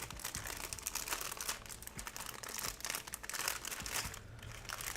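Crinkly plastic LEGO parts bag being torn open and handled, a continuous close crackling and crumpling that runs loud and busy throughout, with no talking.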